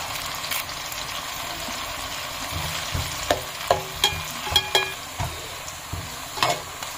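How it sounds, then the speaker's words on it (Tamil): Onions and curry leaves sauté in a pan for a mutton curry, a steady sizzle under a series of sharp spoon scrapes and stirring knocks in the second half. "வெங்காயம் நல்லா வதங்கிடுச்சு."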